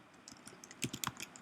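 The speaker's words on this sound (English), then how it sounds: "you'll be able to type in your link" A web link being typed on a computer keyboard: rapid, close key clicks, sparse and light at first, then quickening into a denser flurry of sharper taps, with no talking.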